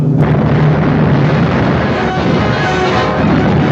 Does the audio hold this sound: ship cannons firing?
yes